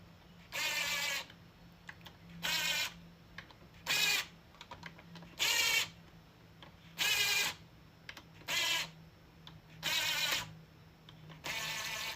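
Impact gun running in repeated short bursts while driving bolts into the Scorpion clutch basket of a 2003 Iron Horse chopper motorcycle, about eight evenly spaced rattling whirs, close and fairly loud, with a low hum between them.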